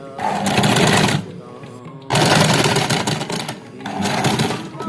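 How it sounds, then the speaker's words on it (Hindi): A sewing machine runs in steady bursts while stitching a collar with a slit, whirring loudly up close and pausing briefly between seams. "अब मैं इसकी बाकिया सिलाई लगा के आपको दिखाती हूँ।"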